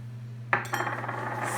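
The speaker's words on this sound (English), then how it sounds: "So I'm slowly blending the sugar and the salt into the dough." Pita dough being worked in a bowl with sugar and salt added, a sudden clatter at first, then steady scraping and clinking of utensil against the bowl over a low hum.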